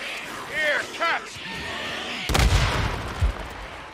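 A grenade blast in the zombie-horde game Days Gone, a sudden loud burst with a low rumbling tail, coming after a stretch of game sounds and talk.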